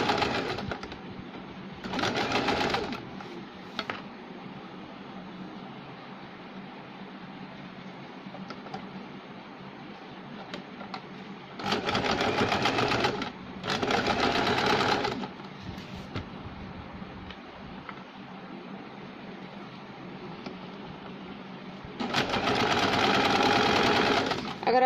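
A sewing machine runs straight stitches along a saree fall, rattling in several bursts of a few seconds each with quieter pauses between them.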